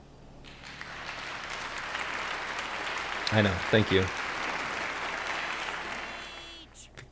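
Several bursts of hand clapping sound during an online community meeting. They are moderately close and sit under steady room noise, and a voice briefly speaks over them.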